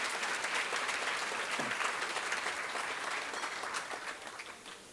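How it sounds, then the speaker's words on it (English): An audience claps in steady, moderately loud applause for past Corporate Award of Merit honorees, a dense wash of hand claps sustained throughout. "Can we give them a round of applause also?"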